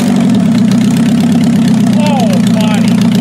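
An old race car engine catches and settles into a loud, steady, low idle right up close, rumbling continuously while people talk over it.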